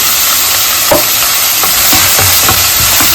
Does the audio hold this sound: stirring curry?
yes